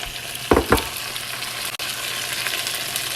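Tomatoes drop into frying onions for chicken tikka masala, setting off two quick loud splashes of sizzle. A steady, close hiss of frying follows.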